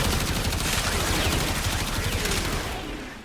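Rapid, dense archgun fire in the game Warframe, a continuous loud barrage of overlapping shots with a rumbling low end that tapers off slightly at the close.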